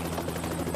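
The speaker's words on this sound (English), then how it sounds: "A helicopter?" Helicopter rotor and engine drone holding steady and fairly loud, a continuous low throbbing hum with no break across the short stretch.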